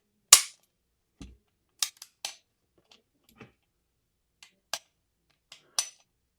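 A Colt 1911 SE-A1 Limited Edition pistol gives sharp, isolated mechanical clicks from its hammer and trigger, about nine crisp snaps spaced irregularly across a quiet background, the first one loudest.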